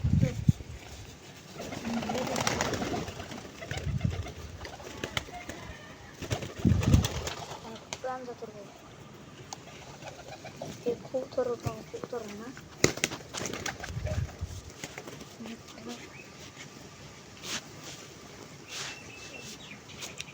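Pigeons feeding on scattered food outdoors, soft cooing and occasional wing flutters mixed in with a person talking intermittently nearby.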